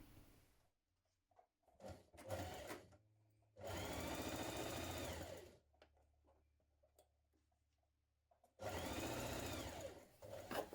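A sewing machine stitches dress pockets in three bursts: a short one, a longer whirring run of about two seconds, then another near the end, with quiet pauses and faint handling between.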